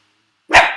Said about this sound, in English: Here you can see the crazy dog who likes to bark for no reason because he's scared of absolutely everything in the world.